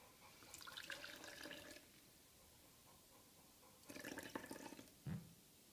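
Roughly 240 millilitres of water poured into a container, two separate trickling bursts of liquid, faint and close, with a small knock at the end.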